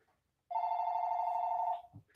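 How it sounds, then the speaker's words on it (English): A telephone rings with one sustained electronic tone lasting just over a second, fairly loud and close, with no talk over it and a soft bump just after it stops. "The phone's going off."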